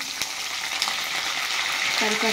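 Dried red chillies, green chillies, garlic and curry leaves crackle in hot oil as a tempering, a continuous close sizzle with a couple of sharp pops and light stirring.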